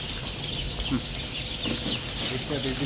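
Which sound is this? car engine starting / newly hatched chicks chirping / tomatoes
newly hatched chicks chirping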